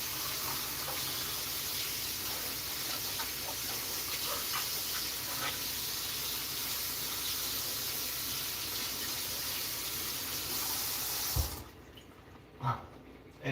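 Hot water runs steadily from a tap in a continuous close gush for most of the time, then cuts off, leaving a few faint knocks.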